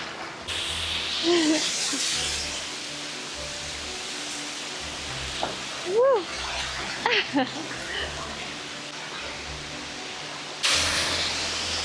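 A waterfall in a wooded valley gives a constant broad rushing hiss close by, with faint voices and small sounds now and then above the roar.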